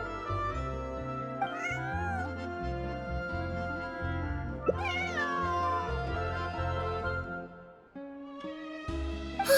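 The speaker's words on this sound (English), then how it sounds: "Meow." A cat meows in a video game, a few drawn-out calls rising and falling over steady music, fairly close and clear with no talking.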